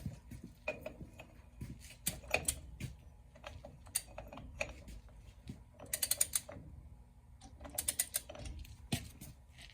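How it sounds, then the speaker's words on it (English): A torque wrench ratchets as a wheel nut is tightened on a Kenworth W900 truck during front wheel seal work, with bursts of quick, sharp metallic clicks separated by pauses, fairly close and quiet. "So let's go ahead and torque it to 200. Get your torque wrench, have it ready."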